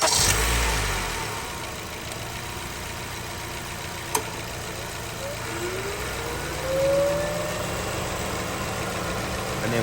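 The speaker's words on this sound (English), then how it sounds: "All right, so now I'm gonna go crank the car." A car engine turns over and catches after a battery jump, then settles into a steady mid-pitched idle that holds close and even for the rest of the stretch, with one sharp click partway through.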